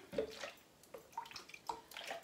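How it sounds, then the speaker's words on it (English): Warm salty water pours and splashes into a jug for fabric dyeing, faint uneven gurgles and trickles in short bursts. "I'm going to add some more of my warm salty water"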